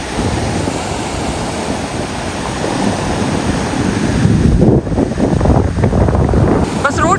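Strong ocean waves breaking on a beach in North Andaman, a loud continuous roar of surf with wind buffeting the microphone, swelling toward the end.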